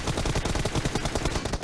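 M4 rifles fire in a BGMI battle royale fight, a dense, continuous burst of loud automatic gunfire with rapid overlapping shots and no pause across the stretch.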